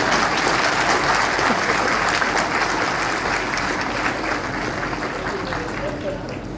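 Sustained applause fills a hall at the Vikram University convocation ceremony in Ujjain, a dense steady clapping from a large audience that slowly eases in loudness.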